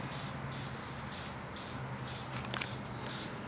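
Silicone spray hissing in short repeated bursts inside a mold, about five spurts close to the mic with brief pauses between them, no talking.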